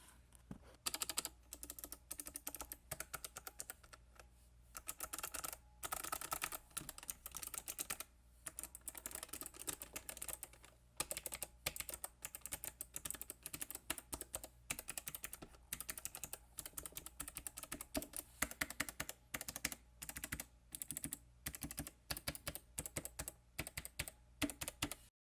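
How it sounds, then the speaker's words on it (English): Touch typing on a Havit KB395L low profile keyboard, a steady rapid patter of soft key clicks with brief pauses between bursts, quiet and close. "like normal touch typing"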